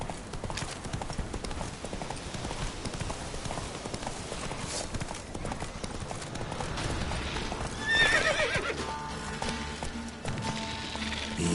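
A horse galloping and neighing in The Witcher 3 video game, with rapid continuous hoofbeats close up, a loud whinny partway through, and game sounds layered underneath.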